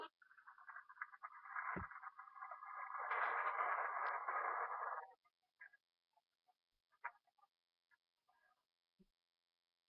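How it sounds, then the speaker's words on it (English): Cell phone ringtone named Thunder plays a rumbling, crackling electronic thunder sound that swells for about five seconds, then fades into scattered faint crackles and near silence. "The next one is a new ringtone called Thunder."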